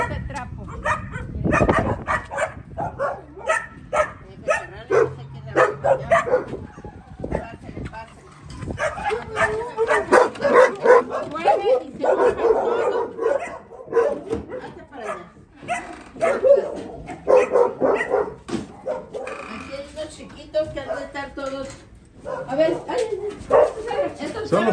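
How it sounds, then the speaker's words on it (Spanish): Several small puppies bark, yip and whimper in irregular bursts close by, mixed with frequent conversation from people nearby throughout. "Ay, ay, ay, son los cachorros."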